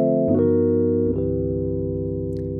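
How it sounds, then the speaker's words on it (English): Three sustained keyboard chords form a 2-5-1 progression, played one after another, the first change quick and the last chord ringing out clean and steady, with no voices. "This is all the sound of a 2-5-1."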